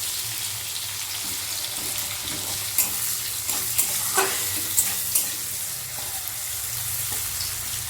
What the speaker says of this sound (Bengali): এই পেঁয়াজটা মানে হাফটা আমি তেলের মধ্যে দিয়ে দেব